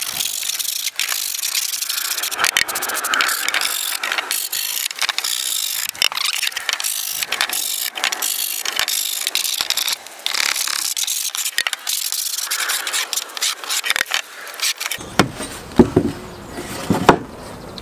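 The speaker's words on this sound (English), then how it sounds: "scrape all of the propolis and wax off and prepare it ready for scorching." A scraper rasps repeatedly across a wooden beehive crown board, taking off propolis and wax in uneven strokes and scratches, close and continuous, ending in a few heavier knocks.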